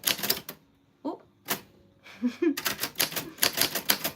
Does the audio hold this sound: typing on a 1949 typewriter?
yes